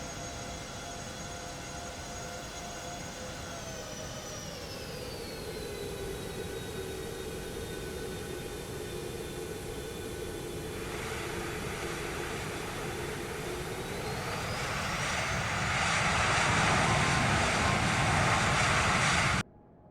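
Jet engines of a Boeing 737 Max whine steadily while taxiing in Microsoft Flight Simulator, a smooth tonal hum that dips in pitch, then rises and swells into a louder roar before cutting off abruptly.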